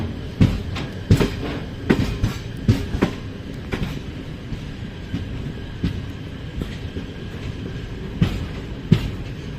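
A train at an Indian railway station, near a double-stack container train on a high-rise pantograph electrified section, gives repeated rhythmic clacks and thumps over a steady rumble. No one speaks.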